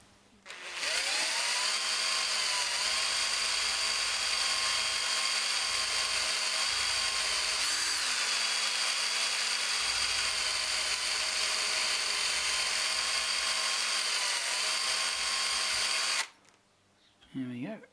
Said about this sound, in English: my sensitive drilling chuck to drill this